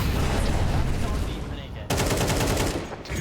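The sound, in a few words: gunshots in the video game Counter-Strike 2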